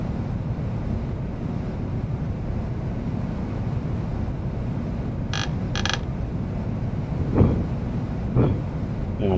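A maglev train in Train Simulator 2020 brakes automatically, heard as a steady low rumbling hum with faint creaks and a few short electronic tones partway through. No one speaks.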